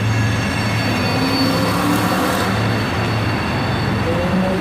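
A train rolls through downtown Dallas, its wheels giving a loud, continuous rumble with faint metallic squeals on top, close by and steady, with no voices.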